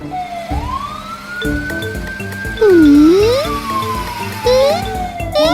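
A toy ambulance siren rises and falls in long electronic wails over cheerful children's music, loud and up front, with a few brief swooping sound effects.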